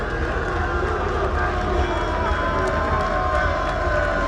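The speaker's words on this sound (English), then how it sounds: "Crowd coming to their feet." Baseball crowd at a Notre Dame vs Florida State college game, a dense, steady roar of cheering that holds loud and close throughout without a clear break.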